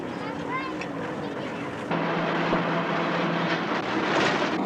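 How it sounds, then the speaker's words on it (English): An old opalette taxi jalopy rumbles through Jakarta streets, its engine droning steadily and growing louder partway through, with traffic noise around. "So we set off in a sort of taxi that they call an opalette"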